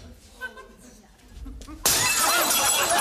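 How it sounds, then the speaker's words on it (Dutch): A small window pane is smashed in, the sudden crash of breaking glass cutting in after a few dull knocks and shuffling and ringing on loudly to the end. "Ik sla van een ruitje in."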